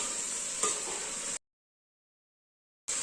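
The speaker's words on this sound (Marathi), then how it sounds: "गॅसवर परतून घेऊ मसाला भाजीला लावून लावून घ्यायचा आहे" Masala and cauliflower sautéing in a pan on a gas stove give a steady, hissing sizzle, broken by a short silence before the frying noise resumes.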